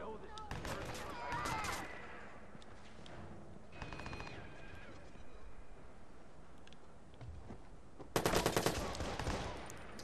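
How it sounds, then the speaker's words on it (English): Gunfire in a Watch Dogs gun battle: bursts of rapid shots early on, a quieter stretch with scattered shots, then a loud volley near the end, under a player's occasional talk. "And once all else fails, then we start getting into a gun battle."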